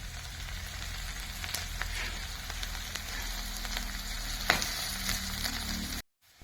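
Green chillies frying in a pan, a steady close sizzle and crackle with a few sharper pops, continuous and fairly even, no voices.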